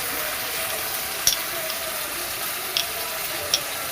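A pot of water with white oil and cardamom heats on the stove for chicken biryani, giving a soft, even hiss with a few faint clicks and no talking.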